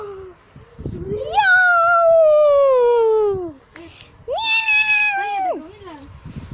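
A pet kitten meows twice, long drawn-out plaintive cries, the first stretching about two seconds and the second shorter, loud and close, with faint household sounds between.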